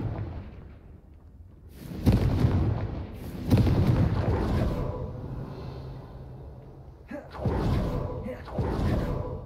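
A Confringo explosion spell going off in the video game Hogwarts Legacy: heavy, booming blasts with low rumbling tails at about 2 and 3.5 seconds, then a later burst near 7.5 seconds, loud against a quieter background.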